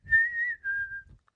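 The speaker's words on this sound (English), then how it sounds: "This is called a wolf whistle." A single wolf whistle, a clear rising then sliding two-part human whistle heard close and alone with no talking.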